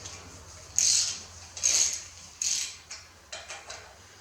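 A ratchet with a deep socket loosening bolts gives several short bursts of metallic clicking, three stronger pulls followed by quicker, lighter ones, close by and with no talk.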